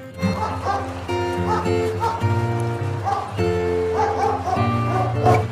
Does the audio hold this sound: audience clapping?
no